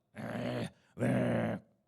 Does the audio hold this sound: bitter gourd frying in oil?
no